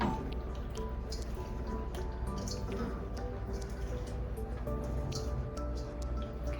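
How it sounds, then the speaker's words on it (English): Pasta tipped back into a creamy cauliflower garlic sauce for baked ziti, giving soft wet squishing and dripping sounds that run steadily and close throughout. "We're gonna take our pasta and we're gonna add our pasta back into this"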